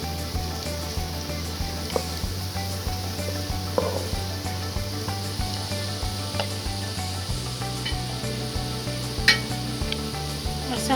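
Whole spices sizzle in hot oil with onions fried almost golden, a steady close crackling fry with small pops and stirring scrapes, no talking.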